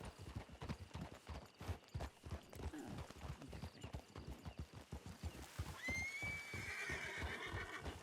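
A horse whinnies in a ranch roleplay video game, the neigh rising clearly near the end over a steady clip-clop of hooves that runs throughout.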